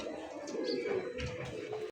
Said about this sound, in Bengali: অনেক সুন্দর একটা দেশি পিওর গোল্লা কবুতর